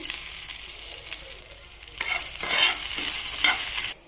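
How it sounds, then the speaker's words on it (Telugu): Dried red chillies, garlic, cumin and ginger fry in oil for a ginger chutney, giving a quiet sizzle with stirring clicks and scrapes that grows somewhat louder and busier near the end, then cuts off. "ఎండుమిరపకాయలు ఇవి కొంచెం ఫ్రై చేసుకోవాలి ఆయిల్లో"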